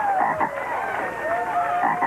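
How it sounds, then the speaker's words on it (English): An African bullfrog croaking, a few low, buzzy croaks repeating over a noisy indoor background with a faint crowd murmur. "He's an African bullfrog."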